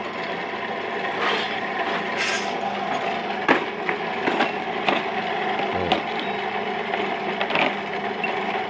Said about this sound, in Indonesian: Ini dari dinamo langsung kita ambil mata bor also.